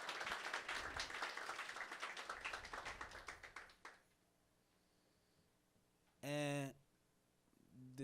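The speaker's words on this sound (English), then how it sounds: "Let's give him a round of applause." An audience applauds at a spoken-word evening, with dense clapping that fades out after about four seconds, followed by quiet room tone and a short burst of sound.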